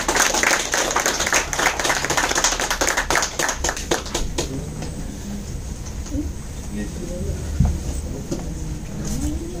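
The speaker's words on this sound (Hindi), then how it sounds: "Please welcome on the stage, आपकी जबरदस्त तालियों के साथ में।" Audience clapping to welcome guests onstage at a product event, loud dense applause for about four seconds that then dies away into room murmur and a faint high hum.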